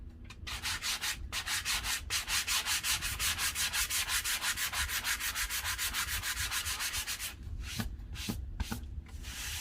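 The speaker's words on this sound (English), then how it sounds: "I'm just going to start with the lighter side of the sanding block" Rhythmic back-and-forth scraping of a sanding block's lighter side on a wooden sign, dozens of even strokes, then a few slower, irregular rubs near the end.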